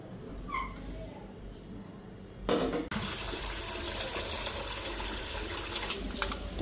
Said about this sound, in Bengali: এদিকে চালটা ধুয়ে আনি